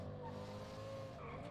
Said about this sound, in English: Bro, why am I driving this car?